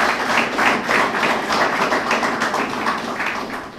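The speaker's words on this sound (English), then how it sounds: "Let's give them a round of applause." Audience applause for the instructors at the closing of a police training course, a sustained dense patter of many hands clapping at moderate loudness for several seconds.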